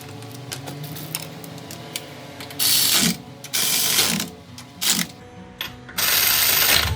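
Ratchet wrench tightening lug nuts on a 2010 Honda Pilot rear wheel during a brake pad and rotor job, with rapid clicking bursts in several separate runs and pauses between them, close and loud.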